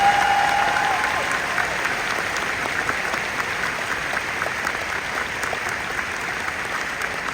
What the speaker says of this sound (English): So how about a special applause for them?